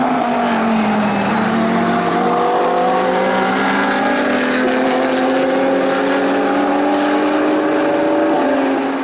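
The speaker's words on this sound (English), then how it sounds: "that big grunting and growling V10 engine note" A V10 GT3 race car in Gran Turismo 7 growls loud and close with a steady, grunting engine note. Revs climb through several gear changes over a continuous drone, and no one talks.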